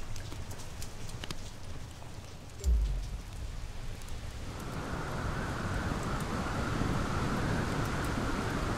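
Rain from a thunderstorm in the video game The Solus Project, starting light and pattering, with a dull low thump partway through, then swelling into a steady, heavier downpour.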